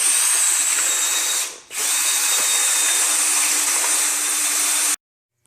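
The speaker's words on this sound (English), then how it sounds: "And I will start drilling for at least 3 to 4 minutes." A power drill mixing tile thinset in a bucket whirs steadily and loudly for several seconds, briefly dipping once as it slows, then cuts off abruptly.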